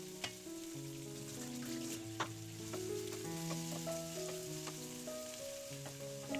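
Finely chopped onion sizzling in hot oil in a pan for an egg roast, a steady close crackle and hiss running throughout beneath tonal background music.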